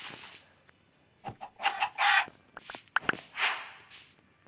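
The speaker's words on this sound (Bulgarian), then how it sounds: "Кокошка." Minecraft chickens clucking in a series of short bursts of varying loudness, some brief and clipped and others longer, separated by quiet gaps.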